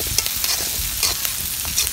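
Cardamom and other whole spices fry in oil with onions, making a loud, continuous sizzle with quick stirring scrapes that come in short, regular pulses.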